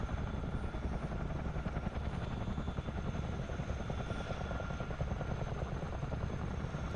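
A CH-47D Chinook twin-rotor helicopter in a flight simulator drones steadily with a dense rotor and engine roar, constant and moderately loud throughout.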